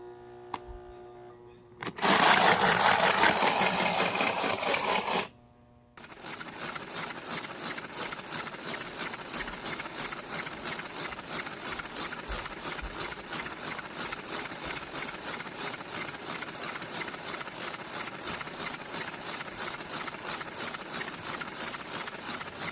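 An AC Gilbert Industrial Transfer Switcher toy locomotive runs with its old, worn gearing, a steady rapid mechanical whir and clatter that holds at an even level for most of the stretch after a brief louder burst and a short gap near the start.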